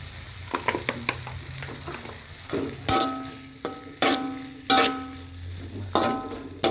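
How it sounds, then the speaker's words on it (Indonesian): Chilies and vegetables stir-fried in a little oil, a loud close sizzle broken by about half a dozen crisp spatula strikes and scrapes against the pan. "Kita mau masukkan ini cabai dan sayur ya, semua aduk di sini."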